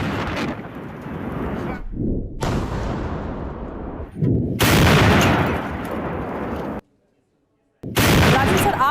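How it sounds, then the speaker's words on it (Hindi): Heavy Russian artillery fire and shelling near Bakhmut in the Russia-Ukraine war, heard as loud, dense booming bursts in several long blasts, broken by a brief silent gap before the barrage resumes. "बाखमुत के पास रूसी आर्टिलरी का जबरदस्त अटैक जारी है।"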